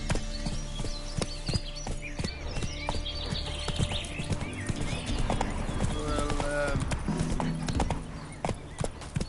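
Hooves of a horse in the Witcher 3 video game clip-clop in a quick, steady rhythm, mixed with game ambience and faint bird chirps, with a voice talking now and then.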